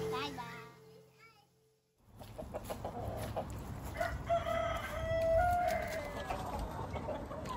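A rooster crows nearby with drawn-out calls, while hens cluck and someone talks faintly in the background outdoors.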